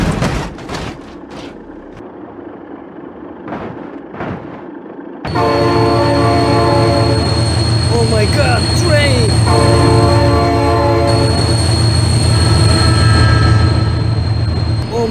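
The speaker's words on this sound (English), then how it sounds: "Train!" A train rumbles past at a rail crossing in the BeamNG.drive video game, a loud sustained roar with horn-like tones that begins abruptly partway through, preceded by short bursts of sound; a voice shouts over it.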